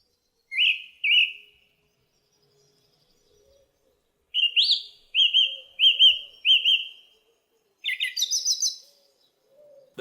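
A songbird sings crisp whistled phrases that repeat two to five times in quick bursts, with clear pauses between groups, loud and close against an otherwise silent background.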